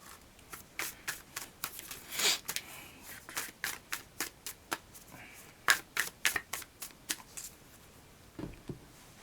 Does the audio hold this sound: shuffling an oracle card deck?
yes